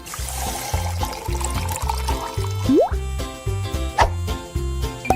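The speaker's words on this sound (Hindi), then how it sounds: "और अब इसमें थोड़ा पानी मिलाया।" Water poured into a cup of freshly made coffee in a home kitchen, heard as a couple of bright plops and a brief trickle, largely buried under loud rhythmic background music.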